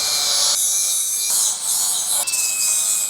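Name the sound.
power sanding mill scale off steel trailer hanger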